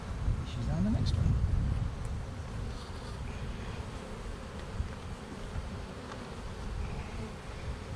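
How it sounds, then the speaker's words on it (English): Dense buzzing of many honey bees on hive frames close up, a constant droning swarm with occasional soft handling noises and no talking. "That's a lot of bees getting ready to emerge."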